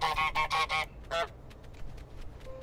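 A cartoon goose honks loudly in Untitled Goose Game, four quick harsh honks in a row, then one more after a short pause, followed by faint scattered clicks and a brief tone in a quiet room.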